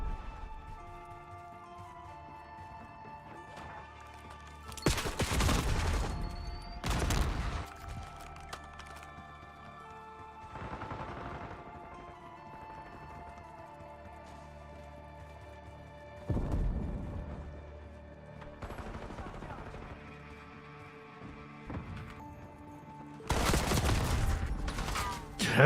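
Assault rifle fire in a video game, coming in short separate bursts every few seconds over a quiet, steady tonal background hum.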